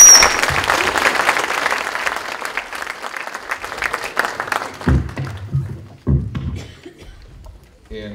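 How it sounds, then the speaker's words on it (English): A room of attendees at a chamber of commerce breakfast event claps loudly for about five seconds, then the applause thins into a few scattered claps and dies away. "let's give Eric and Garrett a round of applause"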